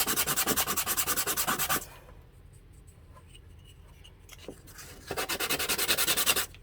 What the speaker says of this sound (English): Continue to sand like that until it's flat.